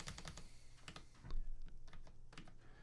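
A computer keyboard clatters with quick, irregular keystrokes as values are typed in, close and fairly faint over a low background hum.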